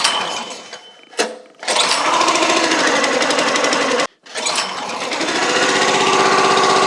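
The small engine of a Tractor Supply wood splitter runs rough on choke, sputtering in a rapid, uneven hammering chatter that cuts out twice briefly and then picks back up.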